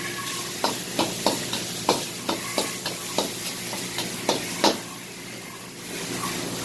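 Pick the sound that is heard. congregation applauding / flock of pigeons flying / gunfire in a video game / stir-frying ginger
stir-frying ginger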